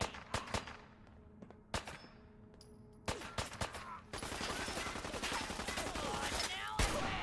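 Gunfire in Fallout 4: scattered sharp single shots and bursts, then a sustained stretch of rapid continuous firing with crackling impacts, fairly close and loud.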